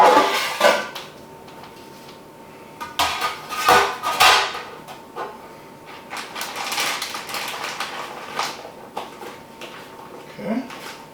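A chicken is set onto a metal roasting rack in a pan inside a Suvie kitchen robot, producing clattering metal knocks and scrapes in irregular bursts, close and fairly loud, with a person talking intermittently.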